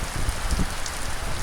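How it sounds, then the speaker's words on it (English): Heavy rain pelts down in a thunderstorm with strong winds, a dense, steady hiss of spray with gusty low rumbles close to the microphone. "I'm just gonna have to deal with the spray of the rain. And the strong winds as well."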